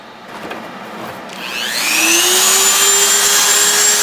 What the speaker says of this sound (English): it can cut straight through the plexiglass and probably your hand